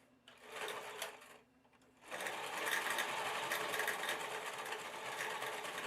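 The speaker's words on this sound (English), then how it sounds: "now you're just going to go to the machine and top stitch this down" A sewing machine top stitching a fabric wrap shawl, a short burst of rapid mechanical stitching, a brief pause, then a steady continuous run of close whirring stitches.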